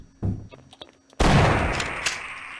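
Shotgun blasts in the Half-Life game: a few light clicks and taps, then one loud, close blast that booms and slowly decays, followed by fainter thuds as the echo settles.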